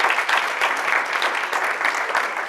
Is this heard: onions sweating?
no